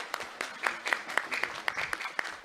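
An audience at a press event in Telangana Bhavan claps in a faint, scattered patter of separate hand claps lasting a couple of seconds.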